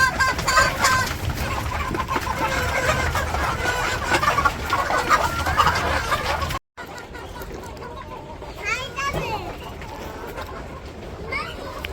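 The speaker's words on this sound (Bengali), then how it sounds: "এই যে মুরগি খাইতেছে, এখন হলো পানি দিব।" Chickens on a village farm cluck and call steadily while pecking at freshly scattered feed in the morning, a busy flock close by with voices talking over them.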